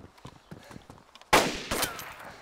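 Gunfire in the video game DayZ, a sharp loud shot cracking out after a stretch of quiet footsteps-like ticks, followed by a second report and a fading tail.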